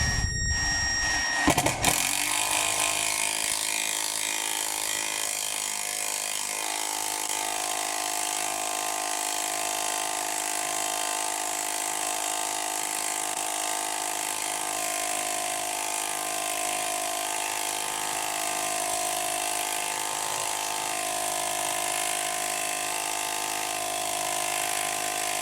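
A Milwaukee M12 power tool drives a 10mm-socket bolt until its head snaps off, a steady loud whirring drone that runs on without pause after a brief sharp start.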